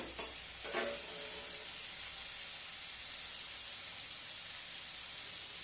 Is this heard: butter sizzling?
yes